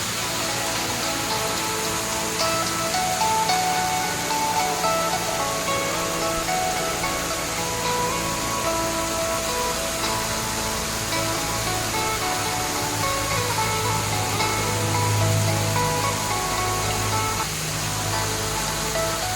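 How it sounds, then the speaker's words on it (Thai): Water from a restaurant waterfall pours steadily in a broad, even rush like heavy rain, continuous and moderately loud with no voices over it. "ขึ้นมาด้านบนแล้วมองลงไปที่น้ำตกนี่ จะได้บรรยากาศเหมือนได้เที่ยวน้ำตกจริงๆเลย"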